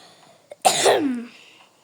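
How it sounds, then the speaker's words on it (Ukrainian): One harsh, close cough, a sharp burst that trails off quickly into quiet. "Вибачте, що я кашлянув"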